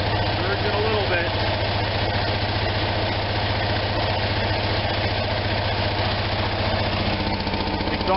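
A small Onan engine idles after a carburetor rebuild, warmed up and running with the choke still giving trouble. A steady, close, even drone holds throughout with a slight surge, and no other sounds break in.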